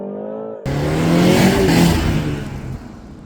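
A 2-liter car in sport plus mode launches hard after a brief idle, the engine note jumping to a loud, sustained roar with rising tones as it accelerates, heard from inside the cabin.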